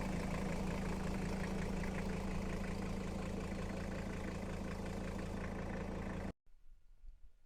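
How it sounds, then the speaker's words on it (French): A Toyota Land Cruiser's five-cylinder engine runs steadily and loud up close for about six seconds with a deep, even drone, then cuts off abruptly, leaving near-silence with faint rustling. "Un moteur vraiment très fiable en 5 cylindres. Il montre dans les tours."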